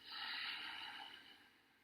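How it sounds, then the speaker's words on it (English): A single short sipping inhalation through the nose during pranayama breathing practice, a close, quiet airy hiss that swells and slowly fades. "I do a few of those short sipping breaths."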